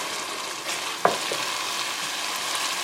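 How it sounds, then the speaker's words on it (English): Masala frying in a pan for daal makhni gives a steady, close hiss of sizzling oil with one brief clink of a utensil midway, no voices. "We're just gonna fry this masala for about 2 to 3 minutes"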